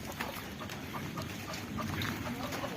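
Local chickens cluck around a house, soft scattered clucks and calls at a distance against a steady background hiss, with no clear talk.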